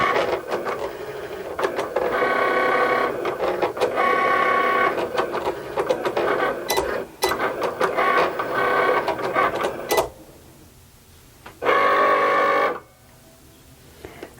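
A Cricut Explorer cutting vinyl labels: steady whirring carriage movement with rhythmic motor pulses and short pauses, ending in a few quieter gaps and a final burst of motor travel, heard alone and fairly close.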